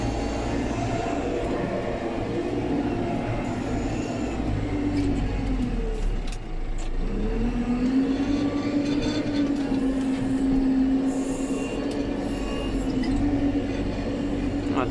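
A JCB 3CX backhoe loader works on a site with crushed stone and gravel piles, its diesel engine rumbling steadily and rising in pitch as it strains, with scattered clanks and rattles.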